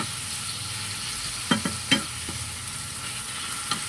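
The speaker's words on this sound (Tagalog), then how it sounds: "lagay na natin ang ating pangmalakasang kamatis" Tomatoes cooking in a pan for a Filipino chicken and tomato stew give a low steady sizzle, broken by a few sharp utensil clinks and scrapes from stirring, close and without voices.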